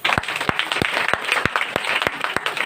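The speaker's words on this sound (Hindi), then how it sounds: "जोरदार एक ताली बजाइए।" A crowd at a Christmas celebration gathering in Lucknow claps loudly in a steady, roughly rhythmic beat, distinct sharp claps repeating about every third of a second throughout.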